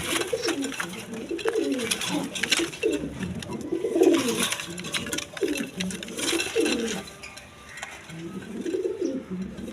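A pair of colored pigeons coo repeatedly in soft, rolling phrases, close by and fairly loud, with a faint hiss of background noise throughout.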